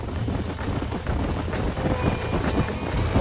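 A horse gallops in Red Dead Redemption, a loud, steady clip-clop of hooves pounding continuously under wind noise and a busy outdoor rumble.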